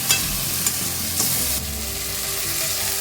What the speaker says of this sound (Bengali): আদা বাটা আর রসুনকে থেতো করে রেখেছিলাম দিয়ে আমি ভালো করে নাড়িয়ে চাড়িয়ে ভেজে নেবো